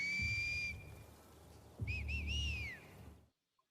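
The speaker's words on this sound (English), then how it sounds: "every so often you hear whistles" Bird-like whistles sound in the woods: a steady whistled tone, then a quick run of three short rising whistles and a longer sliding one. They are fairly faint over low rumbling background noise and then cut off into silence.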